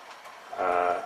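Track cleaning train on the railway near a bridge over Eldon Street in Barnsley, rising from a low rumble to a louder, steady mechanical drone with tonal hum in the second half.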